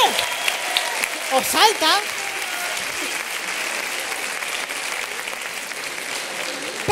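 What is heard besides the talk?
audience applause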